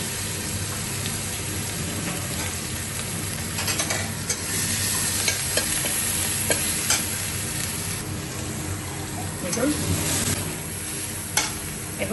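A ground paste of garlic, ginger and green chilli sizzles and fries steadily in a pan, with occasional stirring clinks and scrapes and no talk.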